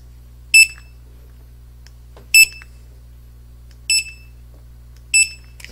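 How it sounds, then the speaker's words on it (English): Four short, high electronic beeps from a Motorola DS3578 cordless barcode scanner sound at roughly even intervals over a faint low hum, each a crisp single chirp. "when you pull the trigger, you will hear the beep"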